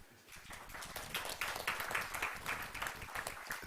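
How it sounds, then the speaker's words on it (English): Conference audience applause at a global gathering on biodiversity finance, a fairly quiet but continuous patter of many hands that swells slightly in the middle and stays steady without speech. "Another round of applause to Brazil."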